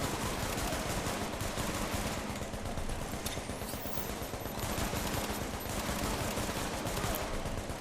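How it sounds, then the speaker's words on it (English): Sustained automatic gunfire and overlapping shots rattle continuously in a firefight in the video game The Division, dense and loud throughout with no pauses. "What the hell is shooting me?"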